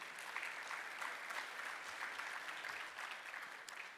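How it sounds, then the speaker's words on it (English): Audience applause at a conference breakfast program: a dense, steady wash of many hands clapping that fills the room, holding at an even level for the whole stretch and tapering slightly at the end, with no one talking over it. "Please, a round of applause for all of them."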